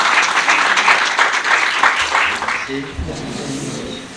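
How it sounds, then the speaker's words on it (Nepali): An audience at a Bible college graduation ceremony breaks into steady applause to welcome a speaker, a dense wash of clapping that fades in the last second as a voice begins. "हामी सबैजना ताली बजाएर उहाँलाई स्वागत गर्छौँ।"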